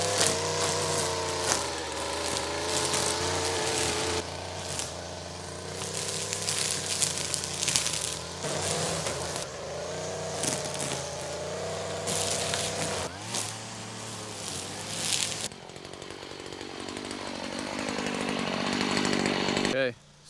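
Weed whacker cutting back brush around an off-grid cabin: a steady, loud engine whine rising and falling as it bites into growth, running almost without break, with a voice talking over it at times.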